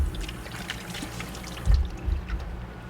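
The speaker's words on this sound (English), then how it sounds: "Now I'm just going to rinse this off my hands." Tap water runs steadily over hands to rinse off egg yolk, a close, continuous pouring splash with a few heavier gurgles near the end and no talking.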